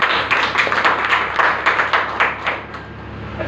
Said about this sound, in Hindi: इनके लिए जोरदार ताली होनी चाहिए